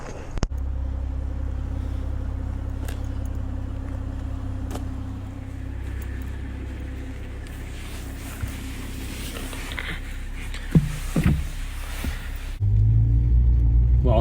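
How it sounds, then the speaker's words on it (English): A 2021 Toyota Supra GR heard as a steady low engine rumble, idling or cruising, with scattered knocks and handling noises, then a louder surge of low rumble near the end; no talking. "gonna take out the 2021 Supra GR today."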